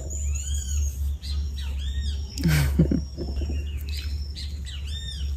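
A great kiskadee (bem-te-vi) sings outdoors, with repeated clear arching whistled calls at moderate distance over a steady low hum, plus a brief louder noise in the middle.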